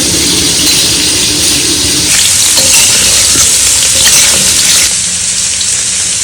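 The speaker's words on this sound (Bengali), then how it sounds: "আলু আর লাউ ডাটা একসাথে রমা ভেজে নিচ্ছে" Steady, loud sizzling of potatoes and bottle gourd stems frying in hot oil, with occasional scraping stirs and a brief squeak, continuous throughout.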